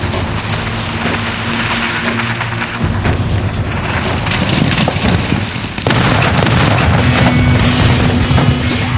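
Thermite burning through a car loaded with 8 gallons of petrol, setting off a roaring fireball. Loud continuous crackling and rushing combustion is punctuated by a heavy burst near the end.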